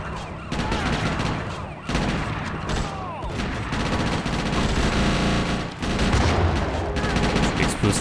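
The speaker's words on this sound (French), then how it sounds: "Ça explose tellement en même temps." Chaotic combat in the handheld game GTA Chinatown Wars: rapid gunfire bursts and explosions pile up, with wailing police sirens running underneath, loud and continuous with short dips between volleys.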